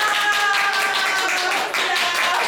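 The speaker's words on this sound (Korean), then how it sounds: "자, 박수로 진행해 보겠습니다." An audience at an online book-talk event claps, a dense burst of many hands applauding at a steady, lively level throughout.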